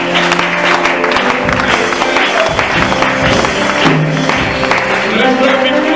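A church congregation applauding and cheering in praise, close and loud clapping blended with voices and music running throughout.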